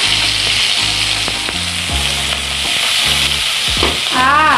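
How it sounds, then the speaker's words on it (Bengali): Fish frying in hot oil at home, a loud, continuous close sizzle with crackling bursts throughout and a brief rising squeal near the end. "এবার মাছটা ভাজবে।"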